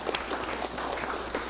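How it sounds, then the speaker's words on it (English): A congressional session audience gives a round of applause, a dense, steady patter of many hands clapping at moderate distance, with faint voices beneath. "I ask that we give them a round of applause"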